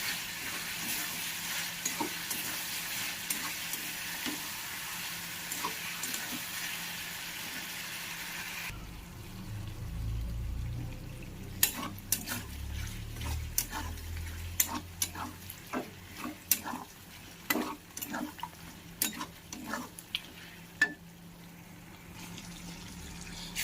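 Chicken skin frying with turmeric and salt in a kadai: a steady sizzle, then louder scraping stirs and spatula knocks recur close by over the frying hiss, with no talk.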